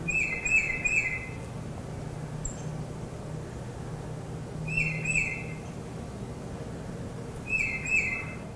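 A songbird gives a whistled two-note "peter peter" song, three short bursts of repeated clear notes separated by pauses, moderately near over quiet background hiss.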